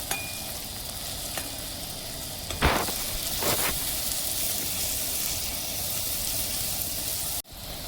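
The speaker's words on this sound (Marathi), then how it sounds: "टोमॅटो छान शिजू द्यायचं." Chopped tomatoes fry in a hot pan for egg bhurji, giving a loud, steady sizzle close by. A couple of stirring scrapes sit on top, and a brief clunk comes near the end.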